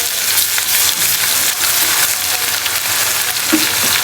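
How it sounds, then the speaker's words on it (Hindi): Garlic ginger paste sizzles steadily in hot oil in a pot, a dense close crackling hiss that holds loud and even throughout with a soft stir near the end. "अब हम इसके अंदर लहसुन अदरक का पेस्ट डाल देंगे।"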